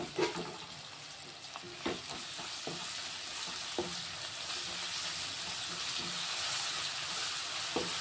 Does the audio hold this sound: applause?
no